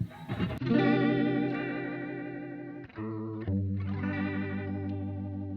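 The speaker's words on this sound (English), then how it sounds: "There's also a vibrato sound which does something slightly different" Sustained electric guitar chords ring through a Roland JC-120 solid-state amp with a wavering, pulsing vibrato effect, loud and steady with a brief break midway.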